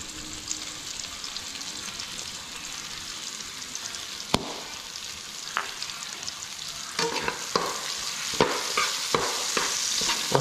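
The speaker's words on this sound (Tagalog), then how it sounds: "Tapos gisahin natin itong ating kalabasa." Squash sautés in a pan with a steady sizzle, and scraping, clinking stir strokes grow more frequent toward the end. No one speaks.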